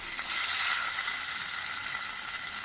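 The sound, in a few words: broken rice added to fried onions, sizzling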